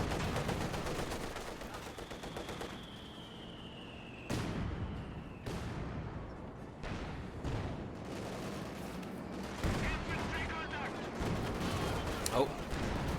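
Tank guns fire at a Panzer IV in a competitive World War II strategy game match, sharp cannon booms landing several times over a background of rattling machine-gun fire and battlefield clatter.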